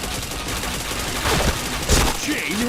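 Video game shooter gunfire crackles in loud bursts across the whole stretch, with rapid shots and a sharp peak near the end, set against busy background noise.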